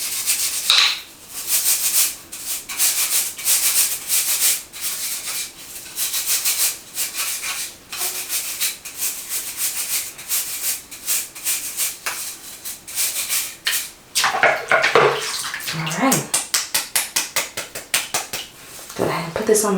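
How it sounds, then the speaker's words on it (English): A dusty household item is rinsed and scrubbed in water during a spring clean, producing close rhythmic scrubbing strokes with rubbing and splashing that grow faster and more vigorous toward the end. "Just trying to rinse it and scrub it a little bit."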